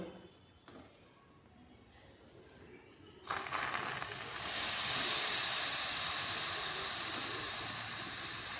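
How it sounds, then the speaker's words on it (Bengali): Milk is poured slowly onto hot caramelized sugar in a pan, setting off a sudden loud hissing sizzle that swells and then holds steady after a quiet start. "এখন আমি আস্তে আস্তে এর ওপরে 2 চামচ দুধ দেব"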